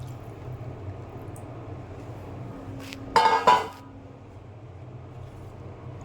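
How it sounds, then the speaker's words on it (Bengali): Water from a rinsed bowl is poured into a pan of coral fish curry, a short splashing pour of under a second, fairly close, over a steady low kitchen hum with no talk. "সেই গাবলাটা ধুয়ে পরিমাণ মতো এই জল দিয়ে দিলাম"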